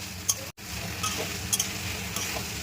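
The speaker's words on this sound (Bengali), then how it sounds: "মশলার সাথে সবজিটাকে ভালো করে কষিয়ে নিতে হবে" Vegetables being stir-fried with spices and poppy seed for Bengali shukto, a soft continuous sizzle with a few light scraping stirs, close and steady throughout.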